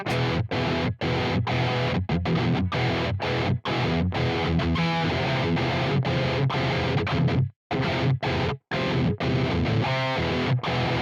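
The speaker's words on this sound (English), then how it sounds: "It's got that Mesa Boogie distortion about it." A heavily distorted electric guitar plays chugging riffs of a song through a Quad Cortex emulating Mesa Boogie Rectifier distortion, loud and saturated, with short abrupt stops between phrases.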